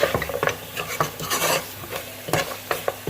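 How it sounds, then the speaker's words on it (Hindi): Masala roasting in a little oil for mutton paya salan, giving a soft sizzle under repeated scraping stirs and clinks of a spoon against the pot, close and fairly busy. "हम हल्के तेल में मसाला भून रहे हैं"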